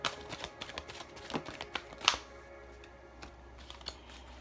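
A deck of tarot cards is shuffled close up, producing a quick series of soft riffling clicks and flicks that taper off into quiet, with no talking over them.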